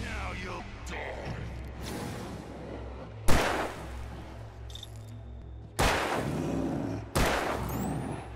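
Gunfire in the game Alan Wake Remastered: several loud, separate shots crack out at irregular intervals over a low ambient drone, with no voices.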